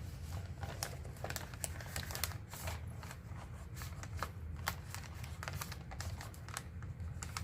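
Paper being folded and creased by hand for a junk journal made from a lunch sack, close crinkling and rustling with quick crisp snaps throughout, nobody talking.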